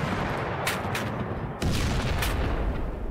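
Mortar fire in the Panzer Battles Kursk wargame: a few sharp booming impacts, one at about the middle noticeably harder, over a continuous rumbling battlefield din, loud and close.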